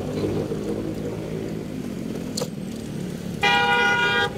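A car horn blares in traffic at a crossing, one sustained loud honk near the end following steady road and engine noise, close by with no talking.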